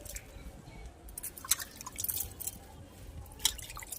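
Liquid Epsom salt fertilizer is sprinkled by hand onto rose leaves outdoors, making faint, scattered drips and small splatters that fall in a few light bursts.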